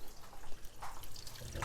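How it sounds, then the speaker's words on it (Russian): Water pours into a pot of cherry plums, a soft, faint trickle and splashing heard close up, with no speech. "И теперь налью сюда водички. Чтобы она прикрывала алычу."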